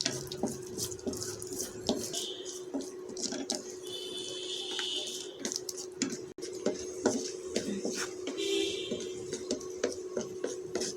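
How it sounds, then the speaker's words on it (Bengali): Almonds fry in ghee in a pan as rice is prepared, giving soft, faint sizzling with occasional clinks of utensils and a steady low hum running underneath. "কাঠবাদামগুলো একটু ভেজে নিব।"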